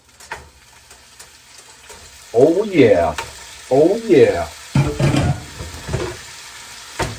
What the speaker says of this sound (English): It's time to add them in here and hear the sizzle.